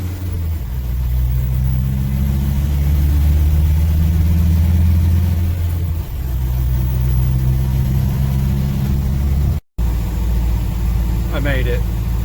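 A Mahindra Roxor engine drones loud and close while driving on a road trip after a stall, holding a steady low rumble with brief dips, while someone talks over it.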